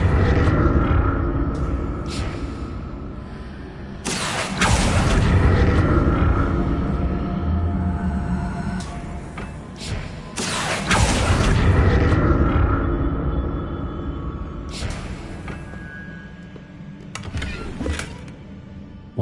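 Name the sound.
burst of magic from a spell in Hogwarts Legacy video game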